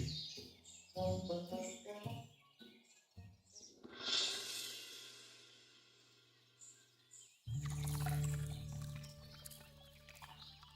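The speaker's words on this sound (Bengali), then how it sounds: "পাখিদের কোলাহল, নদীর কলকল আওয়াজ শুনে যেন প্রাণটা একেবারে জুড়িয়ে যায়" Birds chirping in a village countryside setting, scattered tweets and calls early on, then a stretch of louder, denser sound with a low steady hum underneath.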